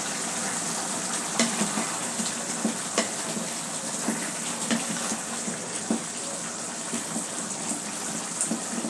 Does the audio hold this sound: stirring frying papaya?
yes